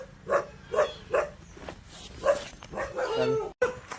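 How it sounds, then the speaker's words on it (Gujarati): A dog barks in a series of sharp, fairly close barks with short gaps, recorded indoors at a home during a travel outing, with faint background noise and a brief burst of other sound near the end. "અચાનક કૂતરો આવી ગયો"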